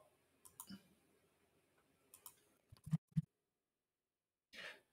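Mouse clicks on an import button in the Power Platform interface for moving Dataverse data between environments: a few soft scattered clicks, then two sharp, close clicks in quick succession, with no talk.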